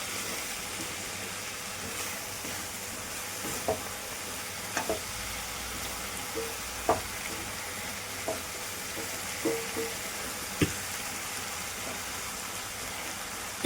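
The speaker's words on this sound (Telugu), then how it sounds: "మీడియంలో పెట్టుకొని ఫ్రై చేసుకుందామండి." Amaranth leaves stir-fry in a pan over medium heat, a steady low sizzle broken by occasional sharp clicks and taps of a spoon stirring, close and without voices.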